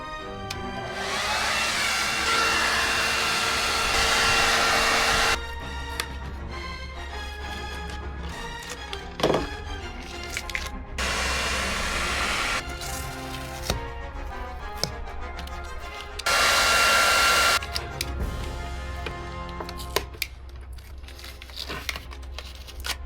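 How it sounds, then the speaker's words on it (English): A blow dryer heats old grip tape on a skateboard, its steady whooshing airflow running in loud bursts that start and stop, with crinkling and scraping handling noises in between. "So I'm going to use the blow dryer."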